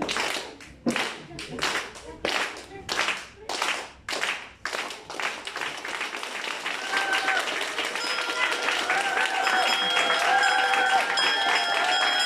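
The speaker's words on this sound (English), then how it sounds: "All right, let's all start clapping." A group claps together, starting in uneven bursts and building into steady, dense applause with chatter mixed in.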